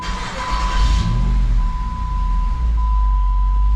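Jeep SRT-8 V8 engine running after a throttle body hole was fixed, a loud steady low rumble up close that eases slightly and holds at an even idle, with a faint whine over it.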